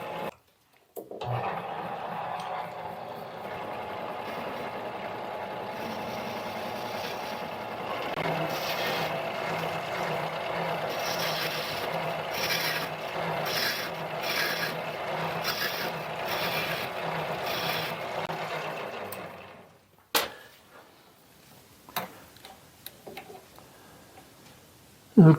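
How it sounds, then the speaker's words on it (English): A mini lathe with an upgraded motor and variable speed drive cuts off a flange on a metal part, a steady whirring hum with rhythmic ticking, ending abruptly, followed by faint clinks and handling noises. "let's cut this flange off"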